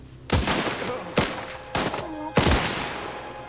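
Several bursts of machine gun fire from the video game Last Train Home, four sharp loud volleys spaced about half a second to a second apart over a steady rumbling battle background.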